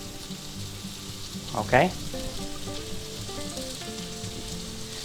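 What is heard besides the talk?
precooked ham heating in a pan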